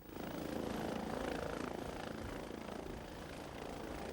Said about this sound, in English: we've been up with them in a helicopter equipped with the latest in video cameras with thermal imaging